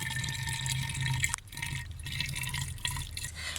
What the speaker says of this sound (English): Romeo is topping up that one.